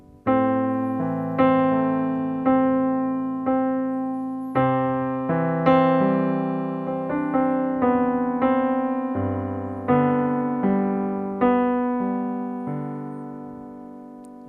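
Solo piano plays the opening of a piece, a steady flow of sustained chords and repeated low notes, each phrase decaying smoothly, clear and close with no talking.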